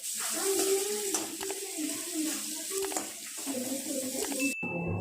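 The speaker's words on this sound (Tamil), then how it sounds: "வெங்காயம் நல்லா வதங்கட்டுங்க" Onions sauté in a pan for Tamil potato poriyal, a soft crackling sizzle running continuously with occasional faint scrapes and a muffled, tonal background.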